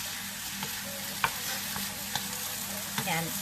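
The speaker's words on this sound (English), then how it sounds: "Mixing it all together, incorporating all the spices into it." Spices stirred into a keto seafood paella with shrimp in a hot pan, a continuous sizzle broken by scattered spoon scrapes and taps against the pan.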